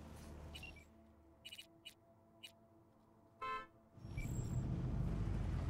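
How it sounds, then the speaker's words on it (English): A car horn honking outside: a few short, faint toots spaced over a couple of seconds, then one longer honk, followed by a swelling wash of background noise. "What a realistic honk."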